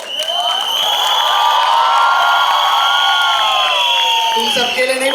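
A crowd at a film promotion event cheers, whoops and shouts loudly and without break, a dense, bright wall of excited voices with no single clear speaker.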